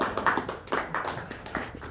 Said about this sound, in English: Everybody give yourself a big round of applause.